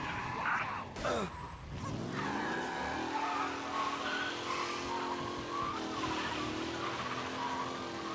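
A car skids with loud tire squeals in the driving and crime game Mafia Definitive Edition, followed by a steady revving engine that carries on under the scene.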